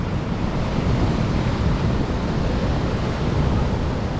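Ocean surf rolls onto a beach on a winter day during beach fishing, a loud, continuous roar of breaking waves mixed with wind buffeting the microphone, with no voices.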